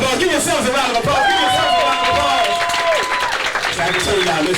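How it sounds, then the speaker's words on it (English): A workshop audience applauds themselves in a steady, dense wash of clapping with whoops and voices mixed in, filling the room for several seconds. "Give yourselves a round of applause"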